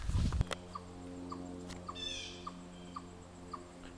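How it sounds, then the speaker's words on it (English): A faint, short bird call repeats at a steady beat about twice a second against quiet background hiss, after a brief knock at the start, heard outdoors at Ramapo near a castle. "it sounds like there's a bird making a chop, chop, chop, chop"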